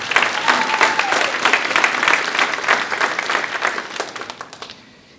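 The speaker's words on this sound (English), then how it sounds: "Let's also give them a round of applause" A graduation ceremony audience applauds loudly and steadily, dense clapping from a large crowd in a hall that thins out and fades away near the end.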